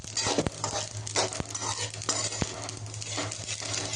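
Cumin, mustard and sesame seeds roasting in a dry pan for black masala crackle with dense popping, and a few louder sharp pops stand out over a constant low hum.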